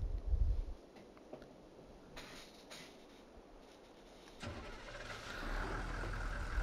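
Truck engine in Farming Simulator 22 starting up: a quiet stretch with faint clicks, then the engine catches with a rush of noise and settles into a steady, loud running drone.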